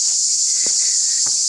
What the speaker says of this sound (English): the cicadas are just creating a song to keep the energy flowing